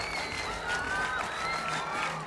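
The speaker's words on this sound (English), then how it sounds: "And now clapping in unison." A cricket crowd at a Nepal match applauds as a thick, sustained wash of clapping and cheering, with faint voices and tonal calls in the mix. No clear unison beat stands out.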